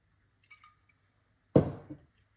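A teaspoon of apple cider vinegar tipped into a glass of water for a cucumber and lime detox drink, heard as one brief close liquid splash after a couple of faint clinks, with no voices.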